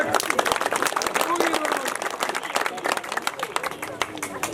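A crowd at a Mata Yatra religious procession event claps steadily and loudly for a few seconds, dense applause with a voice on a loudspeaker faintly beneath.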